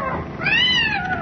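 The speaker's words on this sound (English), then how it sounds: "The cat! Look out for the cat!" A cat in a radio drama lets out a single drawn-out, rising and falling yowl, loud and close, heard alone without talk.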